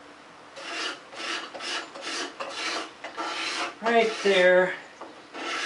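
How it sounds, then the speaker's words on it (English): A card scraper rasps across a wood surface in a string of about eight short, even strokes, close and crisp, with a brief spoken remark near the end. "so I use the card scraper"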